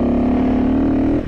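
A 2022 KTM 350 EXC-F dirt bike engine holds a loud, buzzing tone under throttle, pulling in a tall gear, then cuts off abruptly just before the end.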